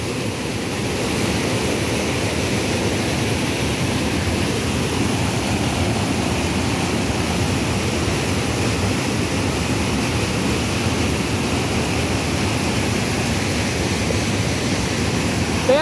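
Water pouring over the overflowing Loreto dam in San Marcos, a steady, broad roar of cascading water heard without a break for the whole stretch, loud and unchanging, with no voices.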